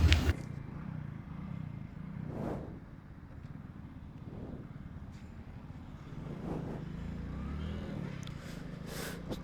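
An old Hero Splendor motorcycle rides along a road with a steady, close engine and wind rumble, as other vehicles swell past now and then.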